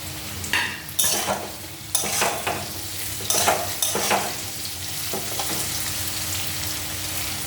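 Sliced potatoes and boiled jackfruit seeds sizzle steadily in a hot pan, with several bursts of scraping as a spatula stirs them at close range.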